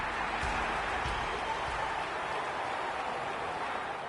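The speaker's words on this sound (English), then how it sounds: "The crowd already making plenty of noise as the captains come together." A stadium crowd roars before an AFL match between Southport and Collingwood in the AFL 26 video game. The dense, loud wash of noise holds steady throughout.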